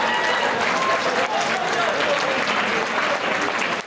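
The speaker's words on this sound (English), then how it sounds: "give both of these athletes, please, a huge round of applause" An audience at a combat sports event breaks into loud, sustained applause, dense clapping holding steady throughout with a crowd murmur underneath.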